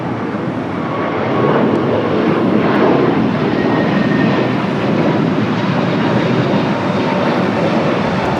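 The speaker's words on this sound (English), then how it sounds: "the A321 Neo taking off, heading to Orlando" A Delta Airbus A321neo jet takes off at LAX, a loud sustained engine roar that swells and holds steady throughout.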